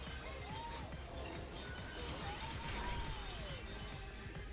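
Glass breaking in the Astro Bot video game, a quiet crackling shatter with tinkling debris over background game music and effects, no talk.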